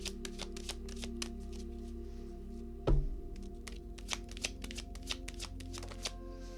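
Playing cards shuffled repeatedly during a live card reading, a rapid run of crisp riffling snaps close to the mic, with one heavier thump partway through and no talking.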